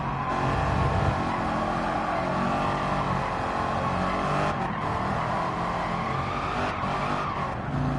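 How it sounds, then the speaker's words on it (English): Tires squealing steadily under a loud, continuous racing-car engine in Gran Turismo 7, a GTO on track, dense and sustained for the whole stretch with no voices. "A lot of tire squeal."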